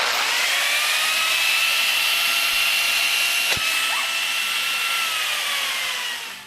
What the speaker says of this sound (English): it's basically a chainsaw attachment for your angle grinder